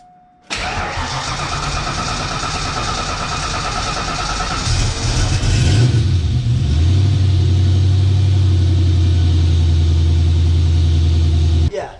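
An old Ford Mustang that has sat unused for years cranks and fires from cold, then runs and revs, with a rough vacuum-leak idle settling into a loud steady rumble, close and continuous throughout.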